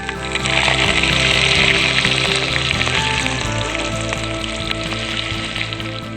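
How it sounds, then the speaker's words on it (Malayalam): Ginger sizzling and frying in hot oil with mustard seeds for a Kerala-style soya bean curry, a steady bright crackle that holds loud throughout with no talking. "ഇഞ്ചി ഇട്ട് കൊടുക്കാൻ പോകും."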